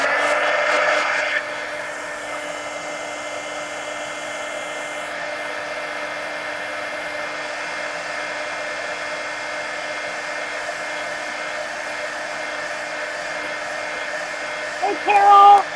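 Steady hair dryer roar blows continuously over a painted coloring page to dry wet paint, loud and unbroken for the whole stretch, with a brief clatter at the end.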